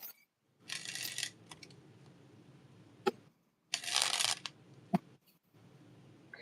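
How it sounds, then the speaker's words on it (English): Playing cards are riffled twice in quick rustling bursts, with a few sharp taps of the deck between them, close and quiet otherwise. "Give the cards a little bit of a shuffle."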